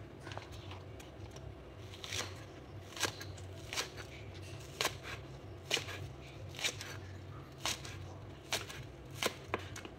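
Leeks and onions chopped with a knife on a board, a series of sharp, evenly spaced strikes about once a second over low kitchen background hum, near and clear, with no talking.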